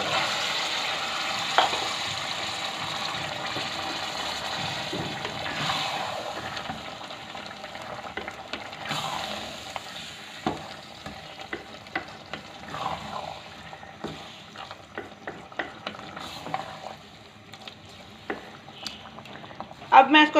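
Boiled spinach tipped into a pan of fried potatoes for aloo palak and stirred, wet sizzling and bubbling with scattered spoon scrapes and clicks, loudest at the start and easing off.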